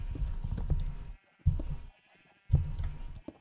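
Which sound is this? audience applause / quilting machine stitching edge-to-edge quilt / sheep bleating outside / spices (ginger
sheep bleating outside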